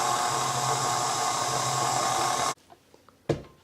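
A stand mixer churns molasses cookie dough with a steady, loud whirring drone that cuts off abruptly, followed by a few faint clicks and a single knock near the end.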